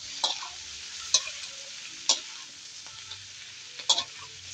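Shrimp sizzle in hot oil in a pan, a steady hissing fry broken by several sharp clicks and scrapes of stirring.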